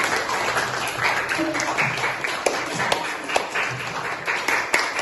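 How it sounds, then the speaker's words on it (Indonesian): A classroom group claps in applause for the second student team during a microteaching lesson, a dense steady patter of many hands with sharper individual claps standing out, lasting throughout. "Berikan aplaus"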